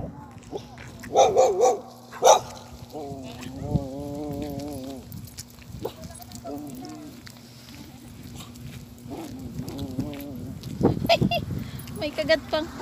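A dog barks in several short bursts, with whimpering cries mixed in, while people talk nearby.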